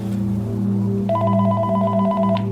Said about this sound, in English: The phone at the front desk rang,